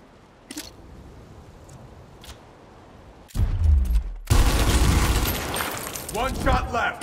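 Gunfire in the video game Gears Tactics, with faint isolated shots early, then a heavy burst of loud rapid fire and explosions, with voices calling out during the fight.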